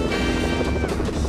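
A Fortnite helicopter's steady, loud rotor drone fills the moment with a continuous thumping whir and no speech.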